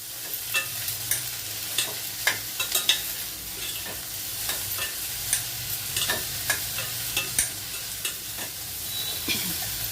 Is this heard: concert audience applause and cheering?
no